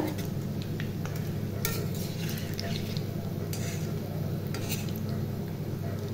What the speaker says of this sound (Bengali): কোপ্তাগুলো ভাজা হচ্ছে বন্ধুরা।